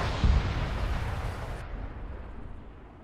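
Bombs detonating in the Arma 3 combat game, a heavy booming blast right at the start that rolls off into a long, fading rumble.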